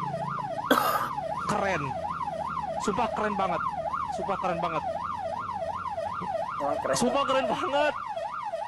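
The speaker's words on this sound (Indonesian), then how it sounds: "ambulan dia tetap dapat jatah buat tetap melaju" Ambulance siren wailing in a rapid rising-and-falling pattern through heavily jammed Indonesian traffic, loud and continuous throughout, with a person talking excitedly over it.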